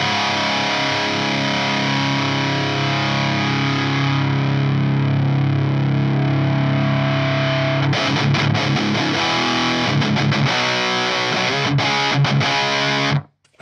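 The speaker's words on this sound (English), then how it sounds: "I have the Total Distortion Worship in the EVH up here" Electric guitar played through a Total Distortion Worship pedal into an EVH 5150 amp: a sustained, heavily distorted chord rings, then turns into choppy palm-muted riffing and stops abruptly. It is loud and close, with no voices.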